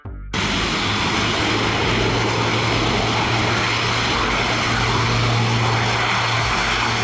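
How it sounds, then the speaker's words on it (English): Airbus A400M military transport aircraft with its propellers running, giving a loud, steady broadband roar with a constant low hum that continues unbroken throughout. "the medium to heavy military transport aircraft produced by Airbus Military"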